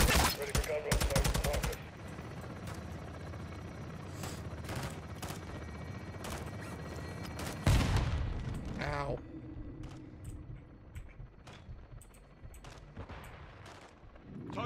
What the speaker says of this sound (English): Ready for gun run, folks.